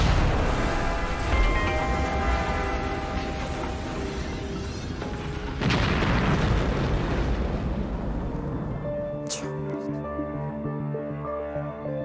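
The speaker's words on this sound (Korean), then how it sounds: "리모컨으로 폭발시켰던 것이죠" A roughly 500 kg bomb planted in a drainage pipe under a road and set off by remote control: a dense, loud rumbling roar with a sharp blast partway through, fading into a lower sustained rumble.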